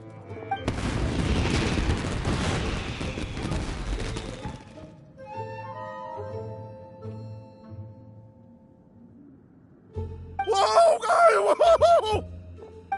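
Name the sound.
fireworks display exploding in the video game Genshin Impact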